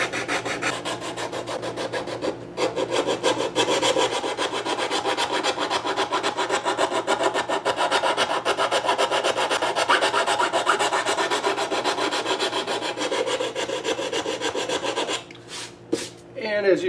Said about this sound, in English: I'm going to just keep the stick vertical and sand away until I get right down to the pen marks everywhere.